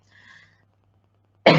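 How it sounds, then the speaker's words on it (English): A single sharp, loud cough bursts out at the end after a faint breathy sound and near silence. "sorry about my cough"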